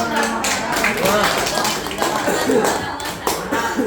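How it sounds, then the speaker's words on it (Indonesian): A group claps and taps in a busy, loud room, with children's voices and chatter mixed into the applause. "Tepuk tangan dulu."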